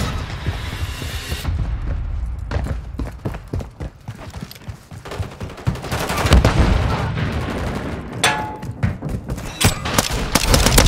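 Rapid gunfire in Call of Duty: Modern Warfare 3, bursts of automatic shots and sharp cracks clustered through the stretch, loud and dense with brief lulls, over low rumbling booms.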